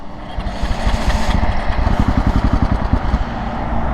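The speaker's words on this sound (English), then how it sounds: "the bike is dying" KTM 690 SMC R single-cylinder motorcycle engine stalling out on the road: a loud, close, uneven chugging rumble that sputters in rapid irregular pulses, with no talk.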